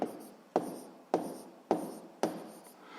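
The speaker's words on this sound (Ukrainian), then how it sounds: "Записуємо відповідь." Handwriting while answering a school physics force problem: a pen scratches across paper in four or five quick separate strokes, close and fairly quiet, with no other sound.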